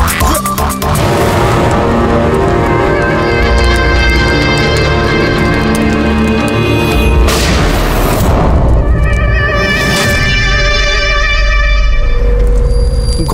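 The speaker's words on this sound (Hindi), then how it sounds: "गोली चलने की आवाज थी यार" Loud, booming gunshots ring out in a tense crime-drama scene, with heavy blasts and a couple of sharp bursts near the middle standing over a constant roar of dramatic noise.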